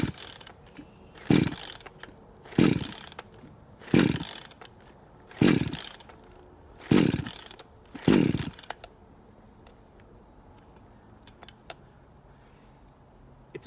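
Six firm tugs on the recoil starter of a cold Chinese 62cc chainsaw, each a loud rasping whirr a second or so apart, but the engine never fires, leaving faint handling clicks afterward.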